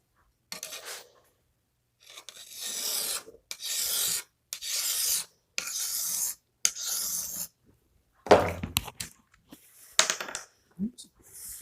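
Garden shears stroked across a 220 grit sharpening stone in a shop, a series of about eight rasping rubs separated by short pauses, close and fairly loud, with no talking.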